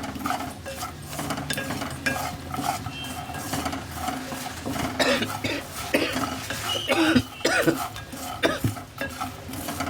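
Lotus seeds (makhana) being stirred and dry-fried in a pan produce continuous scraping and rattling, with a spatula knocking against the metal and a soft sizzle underneath, steady and close throughout, with no speech.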